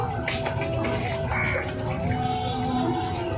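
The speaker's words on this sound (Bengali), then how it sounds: "1 বাটি আর অর্ধেক বাটি জল দেব।" Water is poured into a bowl with sugar for making syrup, a continuous splashing, gurgling stream heard close and steady throughout.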